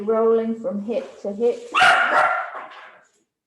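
A dog barks at the doorbell, giving a few sharp, loud barks and yips indoors, right after a calm voice speaks.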